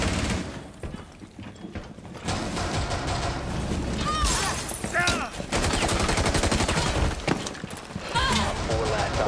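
Gunfire in Rainbow Six Siege cracks through a busy match, several loud shots and mechanical rattles scattered over ongoing game noise, with no clear voice over them.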